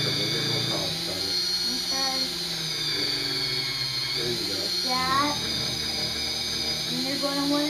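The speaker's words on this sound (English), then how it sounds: "you're going to want to start polishing one section" A power tool polishes the intake manifold of a Jeep 4.7 engine, giving a steady high whine that holds for the whole stretch, with a voice talking over it at times.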